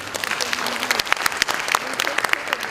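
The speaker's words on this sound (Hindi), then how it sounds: "तो सकारात्मक शक्ति के लिए कृपया जोरदार ताली बजा दीजिए" A theater audience breaks into applause for a staged drama, a dense burst of many hands clapping loudly and continuously with faint crowd murmur.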